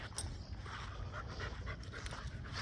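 A female American Pit Bull Terrier puppy panting close by in a yard, quick rhythmic breaths repeating steadily throughout at a moderate level.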